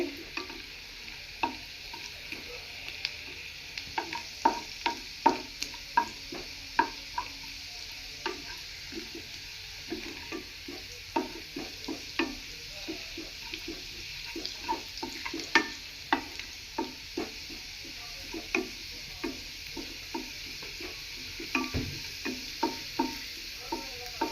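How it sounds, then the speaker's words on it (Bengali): Chopped garlic sautéing in a pan for dry chicken chilli, a steady soft sizzle broken by frequent sharp scrapes and clicks of stirring, close and moderately quiet throughout. "রসুন কুচি দিয়ে দিলাম। এইগুলো সটে করার পর আমি"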